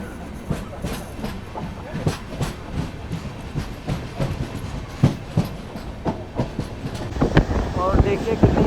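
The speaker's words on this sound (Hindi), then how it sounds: "और देखिए कितनी स्मूथ अपनी ट्रेन चल रही है" Amrit Bharat Express train running on its tracks, a steady rumble with repeated clickety-clack wheel beats throughout, rising slightly toward the end, heard from inside the moving train.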